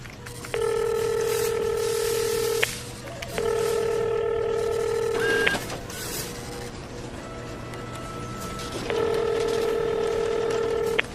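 A telephone call rings out unanswered: a few short dialing tones, then three long, loud ringback tone bursts with pauses between them, over a steady low hum.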